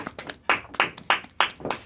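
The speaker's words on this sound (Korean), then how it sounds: "뭐 박수도 쳐주고" Hands clapping in a radio studio, a handful of separate sharp claps in an uneven rhythm, close and fairly loud against a quiet room, with no talk.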